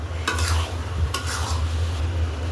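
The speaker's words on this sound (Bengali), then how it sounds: "আলুর ঘাঁটিটা যত কষিয়ে নেবে তত খেতে ভালো লাগবে।" Mashed potato stirred and fried in oil in a pan, a steady close sizzle with repeated scraping strokes of the spoon running throughout, no voices.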